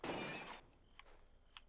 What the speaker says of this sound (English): Why am I smashing this glass actually?